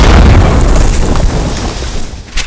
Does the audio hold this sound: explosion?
yes